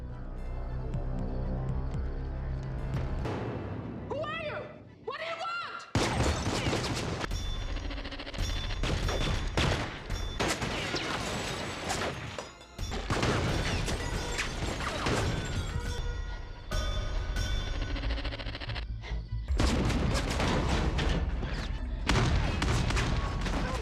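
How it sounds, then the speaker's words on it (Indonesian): A movie gunfight, with dense bursts of gunfire, booms and crashing impacts filling most of the scene, broken by short gaps; a tonal musical or vocal passage comes before the shooting starts. "Flynn pun melawan Carlos dan anak buahnya dengan senjatanya."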